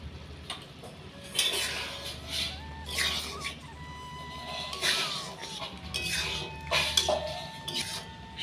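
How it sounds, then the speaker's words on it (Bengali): A spoon stirring mung dal and papaya ghonto in a pot, irregular clinks and scrapes of metal against the pot coming every second or so, moderately close, over faint background music. "সব উপকরণগুলিকে আমরা বেশ কিছুক্ষণ নেড়ে চেড়ে নেব"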